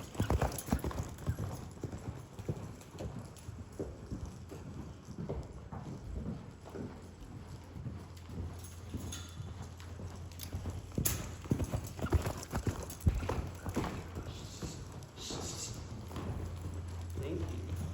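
Rhythmic hoofbeats of a horse cantering in a riding lesson, a steady clip-clop pattern at close range, with an instructor's voice and occasional snorts over the top.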